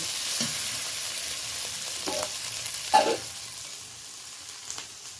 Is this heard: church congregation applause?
no